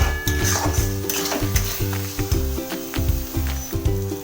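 Chicken masala sizzles and fries in a pan while being stirred, with a continuous loud hiss broken by repeated scraping strokes of a spoon against the pan, close up and with no talking.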